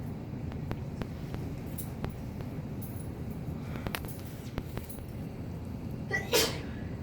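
A quick sneeze bursts out near the end of a quiet stretch of room noise broken only by faint scattered ticks and clicks.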